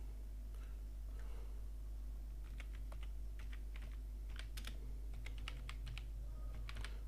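Computer keyboard typing in scattered bursts of quick keystrokes during web page setup, faint over a steady low hum.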